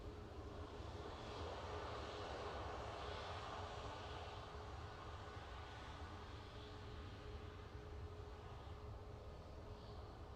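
An EasyJet airliner taxis at Manchester Airport, its engines giving a steady, distant, even drone with a broad rushing hiss throughout and no voices.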